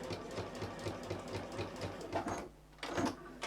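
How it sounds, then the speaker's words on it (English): A sewing machine stitches fabric along a drawn line, giving a quick rhythmic mechanical whirring and clatter that stops briefly, then resumes, fairly quiet and close. "I'm going to stitch along that line that we drew"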